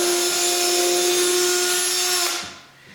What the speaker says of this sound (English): just drill in the actual 2x4